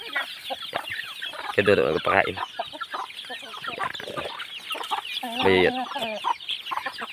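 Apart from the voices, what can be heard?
chickens clucking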